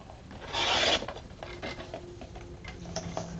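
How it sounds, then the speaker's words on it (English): A craft piece being cut down to size for a box project, heard as a short raspy cutting or rubbing stroke followed by faint scraping and light ticks in a quiet room. "What we're going to do is we're going to cut these down."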